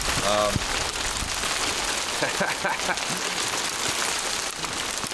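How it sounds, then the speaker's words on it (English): Hail falls outside at a foam pool build site, a steady, dense patter drumming on surfaces, with a brief voice near the start. "It's hailing out."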